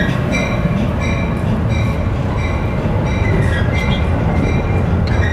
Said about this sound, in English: You can hear the bell